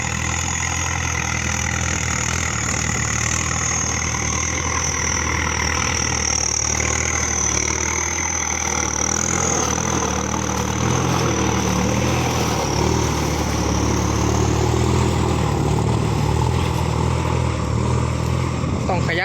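A Ford farm tractor engine runs steadily for the whole stretch, a loud continuous low rumble with a droning mechanical hum that holds even without breaks.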